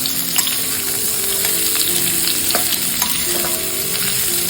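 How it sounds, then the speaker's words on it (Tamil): Sliced carrots sauté in a pan for a Tamil carrot fry, giving a steady, close sizzle with occasional soft scraping and stirring knocks throughout. "கொஞ்சம் கேரட்டை கொஞ்சம் வதக்கி கொடுத்துருங்க ஒரு ரெண்டு நிமிஷம் வளர்க்குங்க கேரட்டை"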